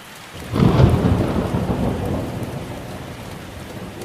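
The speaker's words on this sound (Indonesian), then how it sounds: "Geluduk. Hujan lagi di luar." Thunder rolls outside, a loud low rumble swelling early and slowly fading, while heavy rain pours steadily on surfaces throughout.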